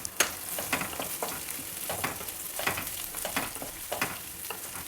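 Curry leaves crackle and sizzle in hot oil while a tomato gojju is made, a dense, steady frying hiss with scattered sharp pops and stirring scrapes running throughout, close and moderately loud.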